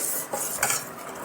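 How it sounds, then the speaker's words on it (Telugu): A spoon stirs diluted cornflour into carrot soup in a pot, giving a brief, soft scraping swirl with a couple of light utensil scrapes against the pan. "కార్న్ఫ్లోర్ వేసినాక కలుపుతూ ఉండాలండి"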